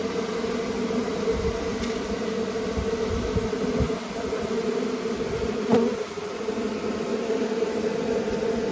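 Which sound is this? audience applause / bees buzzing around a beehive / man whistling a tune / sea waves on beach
bees buzzing around a beehive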